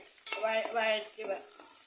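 Green chillies, ginger and garlic sauté in a pan for mango pickle, a short steady sizzle with a few stirring scrapes.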